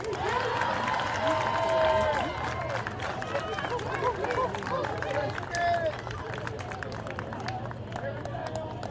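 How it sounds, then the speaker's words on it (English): At a 2023 SWAC softball tournament, a crowd applauds for a Grambling State softball player, with steady clapping and scattered cheers mixed with crowd chatter and voices throughout. "how about a big round of applause for Aaron Gibbs?"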